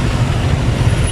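Dense road traffic in Caloocan, a continuous low roar of engines and rolling tyres, loud and close for a brief moment with no voices.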